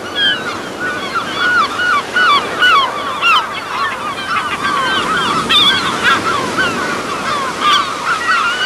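Seabirds, gulls and albatrosses, call again and again at sea cliffs, their honking cries layered over constant loud surf and wind from the waves below.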